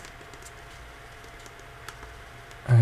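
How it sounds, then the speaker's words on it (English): Light, rapid keystrokes on an Amazon Kindle's small built-in keyboard while typing a message, a soft steady patter of clicks up close, ending in a louder thump. "I can type a message"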